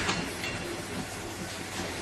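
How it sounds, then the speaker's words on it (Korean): A train clatters along the tracks in a continuous rattling rumble at moderate loudness, with no speech over it. "예, 기차 소리입니다. 철커덕, 철커덕."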